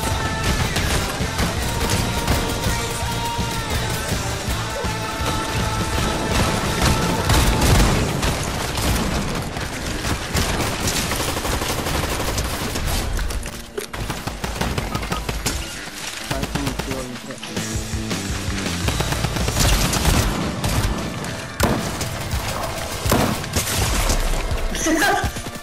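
Fortnite gunfire rattles almost nonstop, loud bursts of rapid shots and booming impacts layered with explosions, while a player talks over the constant firefight.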